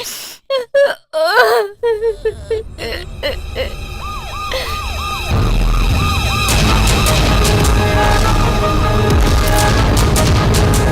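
An ambulance siren wails in rising and falling sweeps, starting with a few broken bursts and then holding a loud, continuous wail over a rumbling engine.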